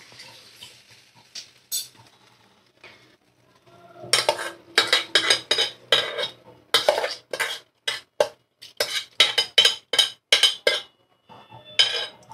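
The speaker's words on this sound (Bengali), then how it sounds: "সুন্দর করে ধোয়া মুগ ডাল আমি এর মধ্যে দিয়ে দেব।" Washed mung dal tipped into a metal cooking pot, a burst of close, sharp clinks and scraping rattles in quick succession after a quiet start, with no talking.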